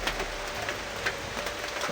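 Rain patters steadily in the background, a soft continuous hiss with faint irregular drops and no talking over it.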